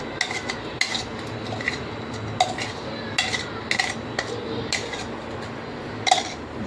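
A spoon stirs spice paste into boiled potatoes in a bowl, making repeated close clinks and scrapes of metal against the dish in an irregular rhythm over soft wet mixing, with no talking.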